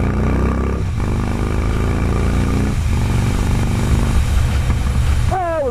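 A Harley-Davidson motorcycle accelerates hard with quick clutchless shifts, the loud engine note dropping briefly between gears and then climbing again, close and steady throughout.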